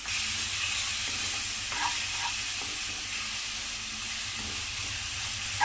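Grated papaya frying in ghee on a low flame, producing a constant soft sizzle and hiss up close with faint stirring clicks and no speech.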